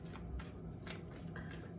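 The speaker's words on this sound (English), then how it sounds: "let's just go a couple more shuffles. Let's shuffle it up." A deck of lesson cards shuffled by hand, a quiet run of soft riffling flicks in quick irregular bursts, close up.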